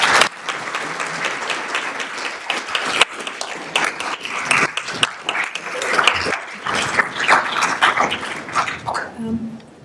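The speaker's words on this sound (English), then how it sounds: "A round of applause." An indoor audience at an evening address applauds the speakers, dense sustained clapping from a sizable crowd, loud and even, tapering at the end with a voice beginning.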